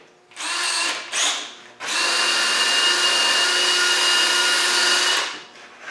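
A wire brush spinning on a power drill scrubs paint and rust from the inside of a Series 1 engine housing, giving two short whirring bursts and then a long, loud, steady grind that winds down.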